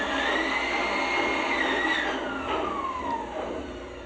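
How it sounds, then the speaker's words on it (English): Continuous whining power-tool noise fills a house under construction in Toledo, Cebu, as workers install a ceiling, a steady loud drone with a pitch that rises and falls. "All that noise is they're putting in the ceiling."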